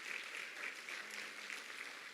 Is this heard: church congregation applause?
yes